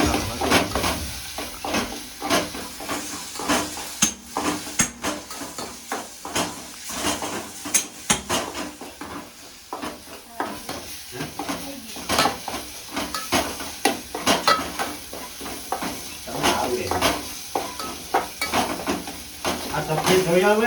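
Green peas sizzle in a hot pan while a spoon scrapes and clinks against the metal, a continuous loud frying hiss with irregular stirring knocks and occasional voices in the background.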